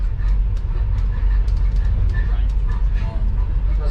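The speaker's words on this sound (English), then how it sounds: "the train will go through there slowly" An Overland passenger train rolls slowly through Bordertown, a steady low rumble of wheels and carriage noise with faint clicks over the rails throughout.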